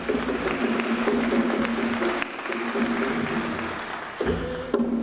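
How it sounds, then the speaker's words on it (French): A congregation at Sunday mass breaks into sustained applause, a dense wash of clapping that holds steady for several seconds, with music or sung tones running beneath and a brief dip before swelling again. "On va applaudir pour eux."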